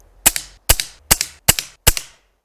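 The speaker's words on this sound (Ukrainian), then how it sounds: "І останні 5 пострілів однією рукою." Five sharp shots from a Hatsan/Optima mod 25 SuperCharger air rifle fired one-handed in quick, even succession, each a crisp loud crack with a short decay, and no voices.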